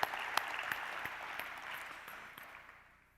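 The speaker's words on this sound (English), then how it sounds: "Let's give these faculty members a round of applause." Audience applause for newly promoted and tenured faculty at a university convocation, a dense burst of clapping with a few sharper claps that gradually fades out over about three seconds.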